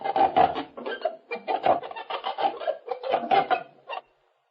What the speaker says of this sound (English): it's the sound of the shutters coming off the summer place in the woods